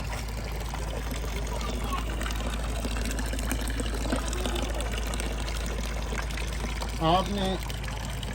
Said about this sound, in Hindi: शेर के मुंह से पानी निकल रहा है